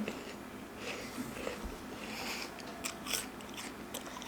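Someone bites into and chews fresh fruit dressed with lime and sauce, with close, moist crunching and smacking bites in an uneven rhythm, fairly soft, with no talking.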